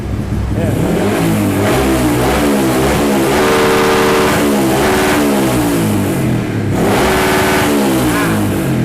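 Loud carbureted motorcycle engine fitted with an aftermarket CDI box revving hard and repeatedly bouncing off a 7,000 rpm limiter, with rapid stuttering cuts, close by.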